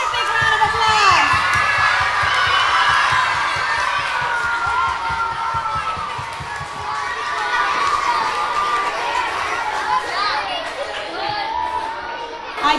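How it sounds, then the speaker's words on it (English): Audience at a school spring concert applauding choir students and their teacher, a dense continuous wash of clapping mixed with crowd chatter, children's shouts and whoops from a large, close crowd. "let's give both our choir students and Ms. Eunice another big round of applause"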